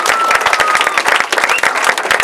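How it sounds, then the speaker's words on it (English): Dense applause from a crowd at a charity walk event for Alzheimer's, many hands clapping loudly and continuously with a steady, busy rhythm close by. "Let's give them a round of applause."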